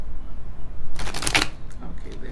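Tarot cards are shuffled in one quick riffling burst lasting about half a second, a bright papery flutter close to the listener amid quiet room tone.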